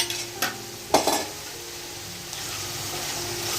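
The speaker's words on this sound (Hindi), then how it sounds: "और ये जो चिकन हमने फ्राई करके रखा हुआ था अब वो भी मैं इसमें शामिल कर दूँगी।" Fried chicken goes into a pan for chicken chow mein, followed by a couple of clattering knocks against the pan and then a steady low sizzle under constant stirring.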